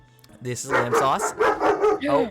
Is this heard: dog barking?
yes